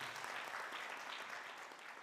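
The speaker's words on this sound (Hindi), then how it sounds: "तो एक बार इनके लिए जोरदार ताली हो जाए." An audience in a large hall at a Sai katha religious gathering gives a burst of applause, a steady wash of many hands clapping that sounds fairly soft and distant for about two seconds.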